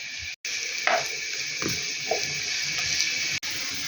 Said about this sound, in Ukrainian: Тому що морква молоденька, вона так само швиденько посмажиться і цибуля.